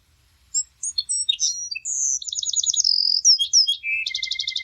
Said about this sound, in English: the tiny, trembling bird, with all her tiny might, sang by herself a song